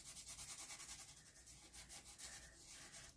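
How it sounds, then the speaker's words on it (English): A fingertip rubs gold gilding wax made from rich gold pigment powder across an embossed card, giving a soft, steady dry scraping with a repeated back-and-forth rhythm, close and quiet, with no talking. "rub that across there, and it gives you a nice luster and brings out the pattern."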